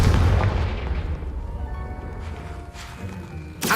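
Confringo spell blasts in Hogwarts Legacy, a heavy booming explosion up front that decays into a low rumble, followed by a second sharp burst near the end.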